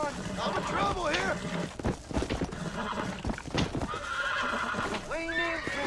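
A wild horse neighs and whinnies repeatedly while being broken in during Red Dead Redemption gameplay, with hoof clatter and in-game voices talking over it.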